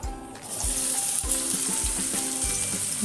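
Chopped onion frying in hot oil in a pan, a steady close sizzle with a few scraping stirs pulsing through it, no voices.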